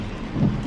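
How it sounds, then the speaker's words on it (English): Heavy rain falls steadily outdoors while a truck is being picked up, a dense broadband wash of drops with a low rumble swelling briefly midway through the short stretch. "and yeah, it's a lot of rain."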